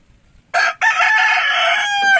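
White Kelso rooster crowing once close by, a loud sustained cock-a-doodle-doo after a short pause, with a clucking tail at the end.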